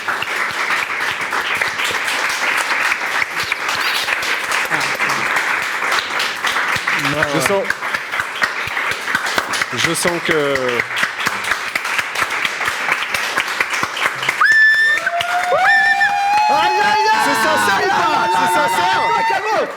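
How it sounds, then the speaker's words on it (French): Lively applause from a studio audience at a game show, continuous clapping with crowd chatter and people talking over it, followed by laughter and music toward the end. "merci pour ces applaudissements très sincères"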